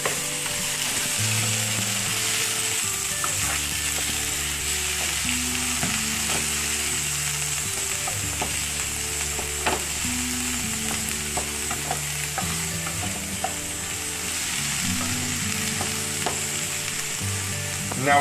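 Tomatoes hiss and crackle as they fry in a pan for Saudi Arabian macaroni, a continuous loud sizzle with scattered scraping stirs, while a melodic tune plays softly beneath.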